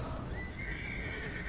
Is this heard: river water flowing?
no